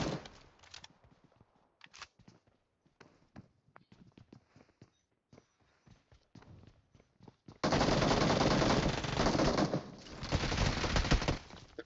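Gunfire in the mobile battle royale game BGMI: scattered single shots and short bursts at first, then a loud, sustained stretch of rapid automatic fire near the end.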